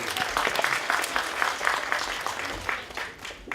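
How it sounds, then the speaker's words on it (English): Attendees at a Manav Seva Association charity walk event clap for the MC, a lively round of applause from a gathered crowd with individual claps audible, tapering slightly toward the end. "So let's first give a very good round of applause to Nitin, who has done a great job as the MC"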